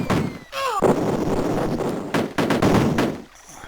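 Rapid gunfire bursts from the Commodore Amiga game Cannon Fodder crackle loudly over a busy, dense game soundscape, with whistling descending tones early on and repeated sharp volleys through the middle before fading.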